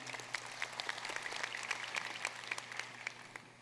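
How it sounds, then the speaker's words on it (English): Audience applause at a College of Engineering commencement ceremony, a steady wash of many hands clapping, moderately distant and even throughout. "Please give another round of applause to all these folks"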